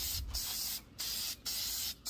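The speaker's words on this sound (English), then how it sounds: "go and spray a full good coat of this on our drawers" A spray paint can lays a coat onto wooden hutch drawers in a furniture makeover, short steady hissing bursts broken by four brief pauses, close and fairly quiet.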